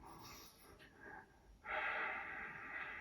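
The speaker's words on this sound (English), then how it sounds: "I'm just breathing" Heavy breathing during a standing shaking exercise, bouncing from the hips with relaxed knees; close, breathy exhalations with a louder, sustained rush of breath in the second half.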